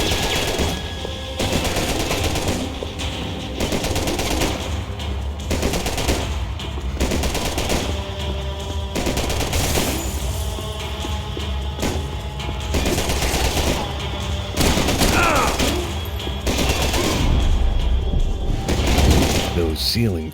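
Rapid automatic gunfire from Max Payne 3 rattles through a dense, busy game soundscape, bursts of shots layered over continuous action noise at steady loudness for the whole stretch.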